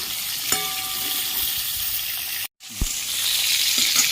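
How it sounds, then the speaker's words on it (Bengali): Seeds crackle and sizzle in hot oil, a steady bright frying hiss broken by a brief silence and a clink of utensils. "তেলের মধ্যে সামান্য একটু কালো জিরে দিয়ে দিচ্ছি, হালকা লাল করে ভেজে নেব"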